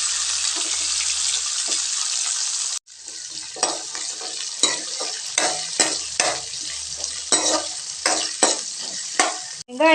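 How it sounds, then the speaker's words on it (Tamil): Onions sauté with curry leaves for a vegetable masala curry, sizzling steadily in a pan while a spoon stirs and scrapes in repeated close strokes, with a brief pause partway through. "வெங்காயம் வதங்கட்டுங்க."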